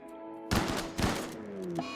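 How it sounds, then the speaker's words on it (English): Colonists' guns in a colony video game fire two sharp, loud shots about half a second apart, each with a short crackling tail, over a faint steady background hum. "I can already hear the guns start."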